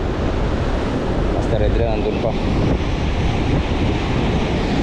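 Strong sea waves during heavy rain keep up a loud, constant rushing roar with wind buffeting the mic, and someone speaks briefly over it from a fishing boat.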